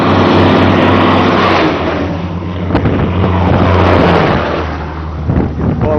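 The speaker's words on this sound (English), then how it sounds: "Blown down there by the trucks going by." Heavy trucks rumble past on a highway lane with small transverse cracks, a loud continuous engine and tire roar with deep low drone that swells and passes close by, one vehicle after another.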